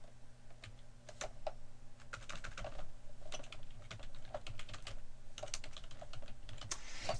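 Keys clatter on a computer keyboard while a folder name is typed, a quiet, rapid, uneven run of light clicks with brief pauses.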